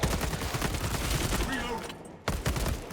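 Pistol fire in the Warhammer 40,000 game Space Marine 2: a dense run of sharp, loud shots and battle noise fills the scene, cutting out briefly to near silence before the bursts return, with a voice talking over part of it.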